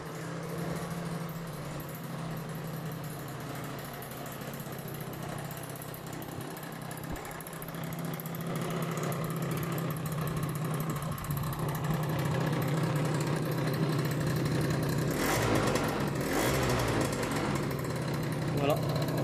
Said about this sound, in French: après on va démarrer le scooter